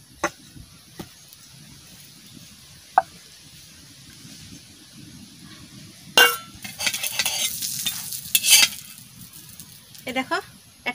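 Chicken Mughlai paratha fries in a pan. The first half is mostly quiet, then a loud sizzle bursts out, with utensil scrapes and knocks.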